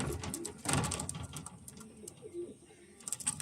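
Pigeons coo softly at a market sale where a white pigeon pair is on show, brief low murmuring calls with one louder burst near the start and faint shuffling in the background.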